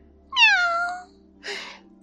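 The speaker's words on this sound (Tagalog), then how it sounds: "Pusa na naman." A cat meows once with a long, clear, falling call, then gives a shorter, rougher second cry after a brief pause. It is close and loud, with no other sound around it.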